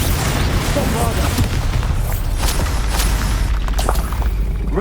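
Bombarda spell explosions in the video game Hogwarts Legacy, heavy booming blasts and crackling impacts layered thickly over ongoing combat noise, loud and close throughout.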